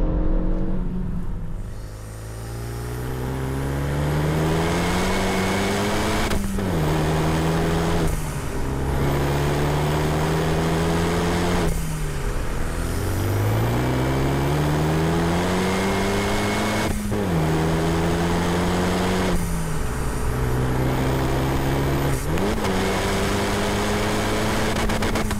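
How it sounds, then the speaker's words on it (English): A Renaultsport Megane Cup 250 engine drones continuously while driving, rising in pitch as it revs through gears, with dips at each shift and a throaty exhaust note. "You just got that nice little cutting sound from the exhaust"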